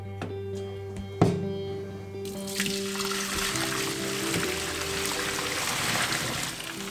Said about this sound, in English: take the pot off the stove and drain off the water